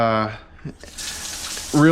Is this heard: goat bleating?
no